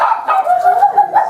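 Several dogs barking and yipping excitedly as people come in through a door, a quick run of close, overlapping barks with a whimpering edge.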